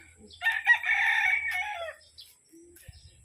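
A rooster on a street in the Philippines lets out one loud, close crow lasting over a second, followed by a few faint clucks.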